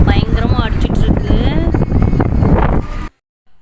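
Heavy wind buffets the microphone at Osuterri Lake near Pondicherry, a loud continuous rumble under someone talking, cutting off abruptly near the end.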